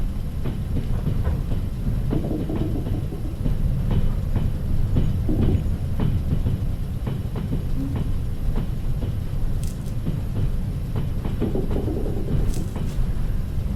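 Train rolling on rails in the Trans-Siberian Railway Simulator game, a steady loud rumble with rhythmic clicks from the wheels and occasional higher squeals, continuous throughout.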